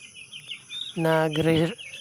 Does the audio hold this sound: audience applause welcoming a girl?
no